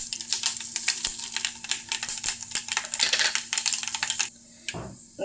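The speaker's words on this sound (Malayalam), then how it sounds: "നമ്മുടെ കടുകൊക്കെ പൊട്ടി" Mustard and fenugreek seeds spluttering in hot oil for a mango, drumstick and prawn curry make a dense, close run of sharp crackling pops, continuous for about four seconds and then thinning out.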